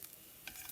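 Fried rice being stirred in a hot pan with crispy golden-brown rice bits, a brief scraping stir with faint sizzle, quiet and close, rising slightly toward the end.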